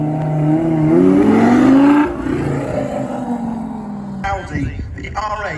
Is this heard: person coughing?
no